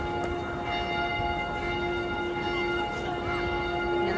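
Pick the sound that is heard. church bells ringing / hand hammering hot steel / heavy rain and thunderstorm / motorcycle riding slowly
church bells ringing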